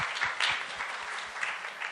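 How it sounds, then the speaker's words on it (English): An audience at the L'Oréal Paris Femina Women Awards applauds an award recipient, a brief burst of moderately loud clapping that stays busy throughout. "A big round of applause"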